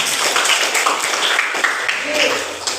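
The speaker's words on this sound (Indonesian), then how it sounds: "Bagus, tepuk tangan kita semua." A classroom group applauds in a brief burst of scattered hand claps that starts and tapers within a few seconds, mixed with some voices.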